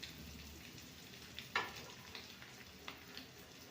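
Eggs stir and fry in masala in a pan on a medium flame for an egg kurma, making a soft continuous sizzle. A few sharper scraping stirs punctuate it. No one speaks.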